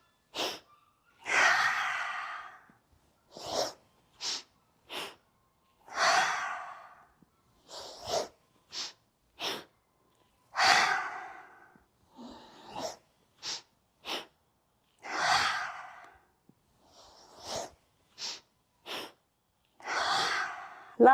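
Audible inhales and exhales, quick sharp breaths alternating with longer sighing releases, recur rhythmically during a full-body vinyasa yoga flow, up close with quiet gaps between them and no talk.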